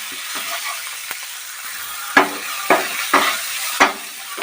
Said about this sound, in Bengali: দিয়ে ভালো করে আবার নেড়ে চেড়ে নিই।